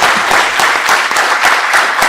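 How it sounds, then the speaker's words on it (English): An audience at a memorial lecture on entrepreneurship gives a big round of applause for Padma Shri Sanjeev Bikhchandani, dense steady clapping filling the room without letup. "Big round of applause for him"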